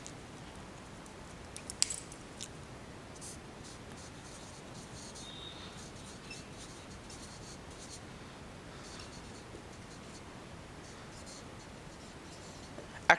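Pen writing a sentence by hand on paper, soft scratchy strokes coming in short bursts against a quiet room background, with a couple of light taps.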